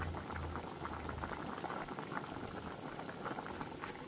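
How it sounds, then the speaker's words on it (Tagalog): A pot of kimchi stew with pork bones bubbles at a steady boil, with dense close-up popping and gurgling that stays even throughout, no talking. "kumukulo na po ang aking kimchi"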